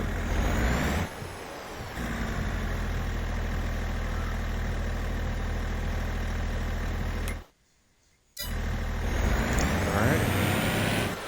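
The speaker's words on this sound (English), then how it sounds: "Now all we're gonna do is just roll through here, drive through" A truck drives in the Farming Simulator 22 video game, its engine holding a steady, loud mid-pitched rumble that cuts out briefly for about a second, then resumes at the same level.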